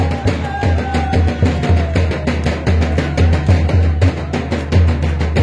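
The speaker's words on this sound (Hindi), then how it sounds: "ढोलकी वाला टिके ढोलकी बजा" A dholak drum played at an award ceremony at a diocesan youth convention, a rapid steady rhythm of deep thumping bass strokes and sharper slaps, loud and continuous, with crowd noise around it.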